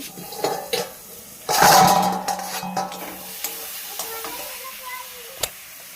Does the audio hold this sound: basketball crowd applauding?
no